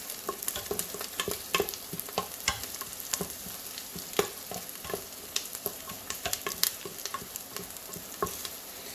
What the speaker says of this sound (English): Add in about two leaves of that and stir fry the mixture.